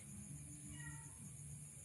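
A faint cat meows once in the distance inside an abandoned house in La Union, against a quiet, humming background.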